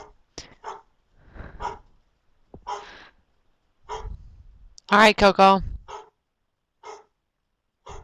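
A few sharp barks break out in a quick cluster from a nearby dog, between stretches of quiet speech and breathing.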